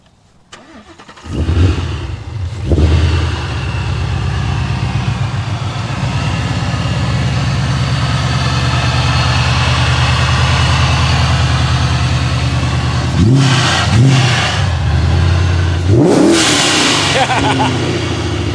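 A supercharged 700+ horsepower street Ford Mustang engine cranks and catches, then idles steadily before a few sharp throttle blips near the end; voices are heard faintly at times.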